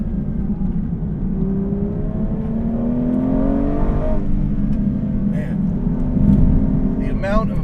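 A manual Aston Martin V12 Vantage S engine hums from the cabin while its pitch climbs and falls through a downshift with automatic rev matching, steady and prominent, with a voice talking over it.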